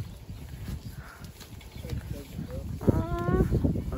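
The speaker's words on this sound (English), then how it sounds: "There are so many goats." Hungry goats crowd around at an animal garden in Aruba, bleating and shuffling close by while people talk and laugh over the animal noise.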